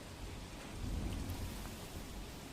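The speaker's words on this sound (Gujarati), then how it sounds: "વાપી અને પારડીમાં વહેલી સવારથી વરસાદ છે।" Rain pours steadily in Vapi and Pardi, South Gujarat, a dense even hiss with a low rumbling undertone, no voices.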